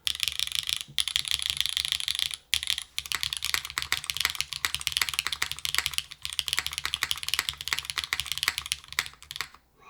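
Steady fast typing on an OF-1 mechanical keyboard fitted with Nezuko switches and harder O-rings, dense clacking keystrokes close up with brief pauses, no voices.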